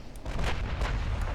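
A naval shell striking a battleship in Ultimate Admiral Dreadnoughts, heard as a deep rumbling boom with overlapping blasts and a muffled explosive roll, close and continuous.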